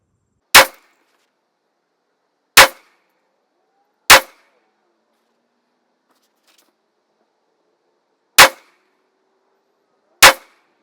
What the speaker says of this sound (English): when I'm shooting this rifle and I'm doing a 5-shot group